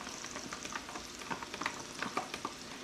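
Chopped onions frying with sausage and potatoes in a pan, a steady crackling sizzle with soft stirring scrapes and scattered pops, close and moderately quiet.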